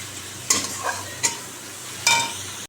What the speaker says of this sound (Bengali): বন্ধুরা দেখো আমি মাছের মশলাটা এখন কষাচ্ছি